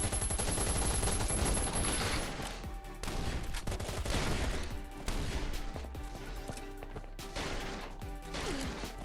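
Rapid bursts of gunfire in the survival video game Last Island of Survival, dense overlapping shots and automatic fire filling the whole stretch, loud and continuous with brief lulls.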